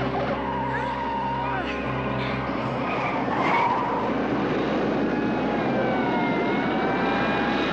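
An airplane landing with its engines in reverse thrust gives a loud, continuous roar and rushing noise with a skidding quality, and voices talk underneath throughout.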